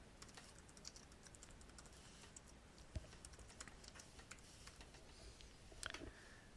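Fingers typing on a computer keyboard, a quiet steady patter of key clicks with occasional sharper taps, close and alone without talk.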